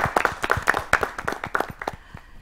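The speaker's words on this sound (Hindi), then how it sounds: "तालियों से स्वागत करते हैं सभी लोगों का।" A small studio audience claps at a World Health Day television talk show, a short burst of irregular, fairly close handclaps that thins out toward the end.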